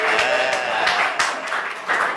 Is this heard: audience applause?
yes